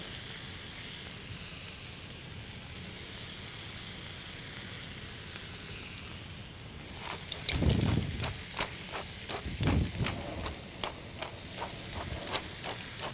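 A bone-in ribeye, a cowboy or tomahawk cut, sizzles loudly in a seasoned cast iron skillet with a steady frying hiss. Sharper crackles and spits burst in over the second half, and no one speaks.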